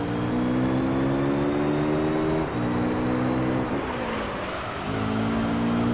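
A race car engine in Gran Turismo 3 roars steadily at high revs, then drops pitch as it downshifts to second gear and climbs again, loud and close throughout.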